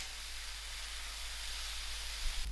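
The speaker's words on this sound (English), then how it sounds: "I'm going to throw in my tomatoes" Tomatoes sizzling in a pan for sour dhal, a steady, faint, even hiss that runs throughout.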